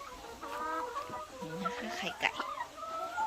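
Hen clucking in an egg-laying nest, soft close murmuring clucks and a few higher notes, under a woman's low speech.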